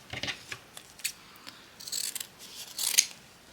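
Scissors cut through a piece of felt up close, a series of soft crisp snips in small irregular clusters, fairly quiet with no talking.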